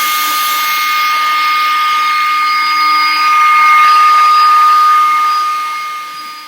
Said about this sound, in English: everybody knows leaf blowers make really good hair dryers